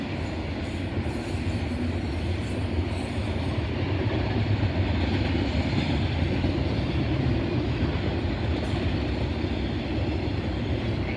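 A CSX freight train hauling intermodal containers and auto racks rolls past near Oak Harbor, Ohio, a loud, continuous rumble of wheels and cars with steady rattling clatter throughout.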